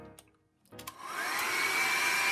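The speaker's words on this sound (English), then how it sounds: "you could go back to the hairdryer and put it on warm." A handheld hair dryer switched onto its warm setting to dry a wiped-up spill on an office desk: after a few clicks and brief quiet, a steady whooshing blow starts up and holds loud and even until the end.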